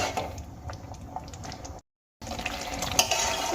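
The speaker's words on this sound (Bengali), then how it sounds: "এবার আমি তিন থেকে চার মিনিট খুব ভালো করে আরও একবার ফুটিয়ে নেব" Spinach and gram flour curry boiling in a pan, a steady bubbling hiss that cuts out briefly in the middle and then resumes, with no talking.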